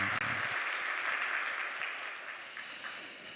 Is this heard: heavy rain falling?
no